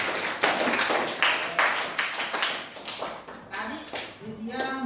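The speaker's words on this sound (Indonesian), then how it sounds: "Beri tepuk tangan untuk Lydia." Classroom pupils clap for a student in rhythmic, uneven bursts, close and fairly loud, fading at the end as a voice starts talking.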